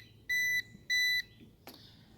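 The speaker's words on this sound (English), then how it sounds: "you hear it beeping until it connects." Two steady electronic beeps in a row, each about a third of a second, then a brief higher chirp, close and clear, from a Ruko F11 Pro 2 drone controller beeping until it connects.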